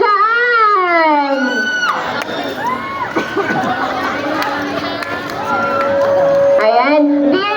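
A crowd at a team event waves flags and banners, shouting, cheering and whooping in a loud, dense mix with chatter, children's voices and rising yells throughout.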